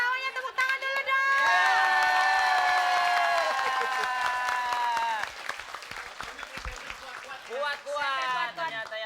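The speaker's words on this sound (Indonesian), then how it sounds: "Tepuk tangan dulu dong" A studio audience at a TV comedy show applauds and cheers: a loud, sustained wash of clapping mixed with high shouted and sung voices, which then thins into scattered claps and chatter.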